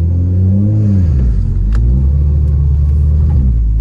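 A Toyota Supra engine revving up a hill, a loud close low rumble that rises and falls in pitch through several revs.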